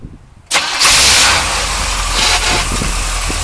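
A 1980 C3 Corvette fires up with a sudden loud catch, then settles into a steady, rumbling idle up close.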